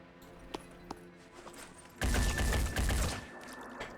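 A few faint single shots pop in Phoenix Point before a loud, sustained burst of gunfire erupts halfway through and rattles on for over a second, then fades to scattered reports.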